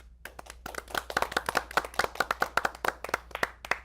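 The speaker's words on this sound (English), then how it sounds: "A big round of applause for them" Applause for a studio TV crew at a dating seminar taping: a small group clapping for about four seconds, sharp uneven hand claps close to the microphone at moderate loudness, with no talking.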